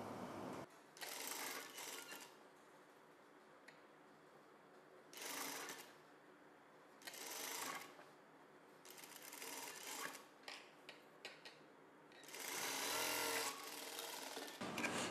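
Sewing machine stitching blouse fabric with the hem edge folded over, running in several close bursts of rapid whirring stitches separated by short pauses.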